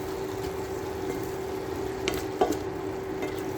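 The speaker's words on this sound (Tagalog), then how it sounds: "Paghaluin lang natin siya guys." Chicken being stirred in a pan with onion, garlic, rose water with saffron, and tomato paste, giving a steady low sizzle with a couple of brief scraping stirs near the end, no talking.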